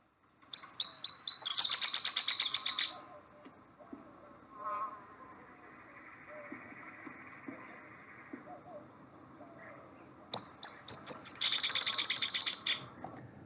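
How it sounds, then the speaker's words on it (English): Eastern or spotted-type towhee song recorded outdoors on a damp morning: bursts of sharp, high pip notes stutter into a buzzy trill, heard twice near the start and end, clear and fairly close over quiet background calls. "they'll use those pip notes as intro notes and then kind of stutter into a little trilled song there"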